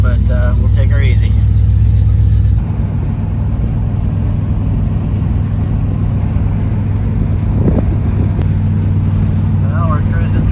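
A 1967 Mercury Cougar engine drones steadily while driving through hot California weather, a loud continuous rumble with road and wind noise and no break.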